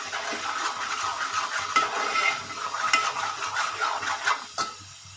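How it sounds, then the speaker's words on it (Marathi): Coriander-cumin powder stirred into misal masala in a pan: a close, steady sizzle of frying with repeated scraping strokes of a spoon against the pan and a few metallic taps near the end. "धना जिरा पावडर दोन चमचे घातलेत मी थोडंसं हलवून घेऊया"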